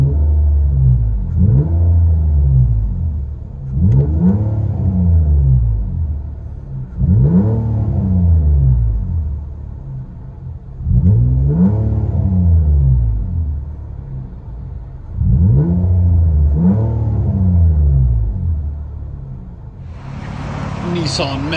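A 2017 Nissan Maxima's 3.5-liter V6 with resonator and muffler delete rumbles in repeated rev sweeps, rising and falling about every four to five seconds, loud and close, ending with a burst of hiss.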